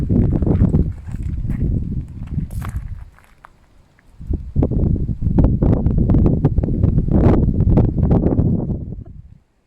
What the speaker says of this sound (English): It's a wet and windy day in Galway.